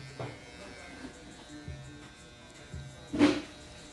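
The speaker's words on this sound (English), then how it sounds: "Here I went back to my wall clippers, and I want to clean up this taper a little bit more." Corded wall hair clippers trim and clean up a taper during a simple haircut, giving a faint, low electric buzz with brief soft bursts as the blades pass, heard alone without talk.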